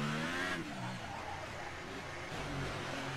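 Formula One race car in F1 2018 easing into the pit lane, a steady loud engine drone with shifting pitch, a brief rising whine at the start, continuous throughout.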